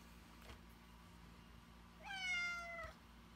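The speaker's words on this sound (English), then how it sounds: "You guys are just going to get to hear my cat complain to me that he is not getting enough love." A pet cat gives one faint, drawn-out complaining meow, distant and brief against a quiet room hum.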